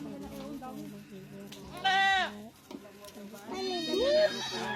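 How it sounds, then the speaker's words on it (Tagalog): A small goat bleats twice in a loud, wavering cry with people talking nearby, the second bleat longer and rising at its end. "Maliit na kambing."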